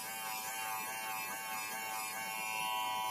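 An electric hair clipper, freshly oiled with a few drops on top, runs with a steady, even buzz, close and unbroken, with no voices.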